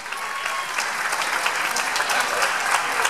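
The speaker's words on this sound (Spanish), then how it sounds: "Un aplauso para ellas" Festival audience applauding the presentation of the festival ladies in Guardo, a sustained, even burst of many hands clapping at moderate distance.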